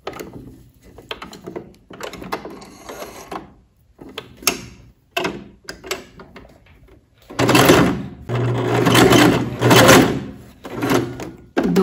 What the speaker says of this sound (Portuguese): Passar uma costura reta aqui